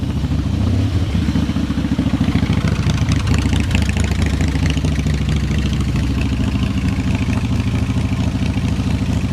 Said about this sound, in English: there's a motorcycle in the background that's making lots of rumbling noises